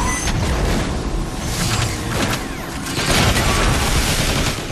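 Dense, continuous blasting and gunfire in Transformers: War for Cybertron, overlapping explosions and rapid shots filling the whole stretch at steady high loudness, with no talk.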